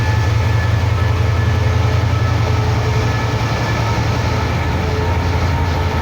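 Steady loud rumble of a large diesel train engine departing Chiang Mai station in Thailand, close by, a constant low drone with no pauses.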